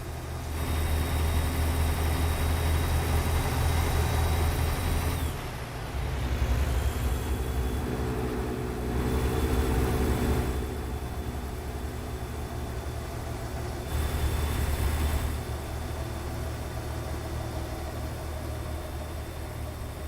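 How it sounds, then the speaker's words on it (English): Truck Jake brake in American Truck Simulator, a loud steady rumbling engine drone that swells and drops in several long stretches. "I'm not snoring. It's just my Jake brake."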